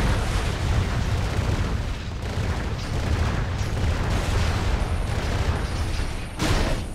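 Heavy booming explosions from Transformers: The Game on PC, set on Cybertron, roll together into a loud continuous rumble with repeated blasts and brief dips between them.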